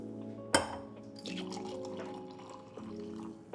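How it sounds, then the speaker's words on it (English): Brewed coffee dripping from a glass AeroPress into a cup, a sharp knock followed by soft trickling drips and faint liquid hiss, close and quiet with no voices. "we're just gonna keep pressing until water stops going through"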